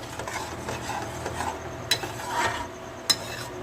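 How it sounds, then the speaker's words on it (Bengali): Whisked sour yogurt is stirred into egg rezala curry in a pan, giving soft scraping and stirring with a gentle sizzle and two sharp clinks of a utensil against the pan. "দইটা মিশিয়ে দিলাম, দিয়ে আবার একটু কষবো।"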